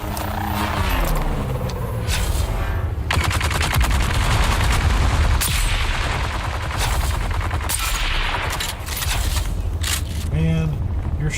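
Rapid gunfire bursts in the video game Dune Awakening, loud and dense over about eleven seconds, mixing repeated automatic fire with single shots, with someone talking over the shooting.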